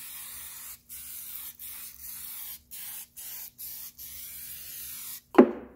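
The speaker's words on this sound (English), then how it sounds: "Give it a nice healthy dosage of brake clean, and then wipe it down with a microfiber cloth." Aerosol brake cleaner sprayed onto the rear drum brakes of a 2011 Volkswagen Jetta, with about eight steady hissing bursts separated by brief pauses, close and moderately loud, ending in a sharp knock.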